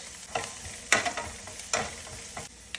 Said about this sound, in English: onions and the pepper. And saute them until they are soft.